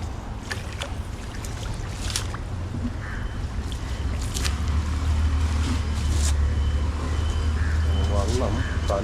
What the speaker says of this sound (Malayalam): വള്ളം തല ഇങ്ങോട്ട് പോരും.